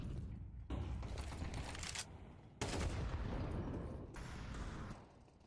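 Rapid gunfire rattles in a Counter-Strike match, loud dense bursts filling most of the stretch with brief gaps between them, alone without talk.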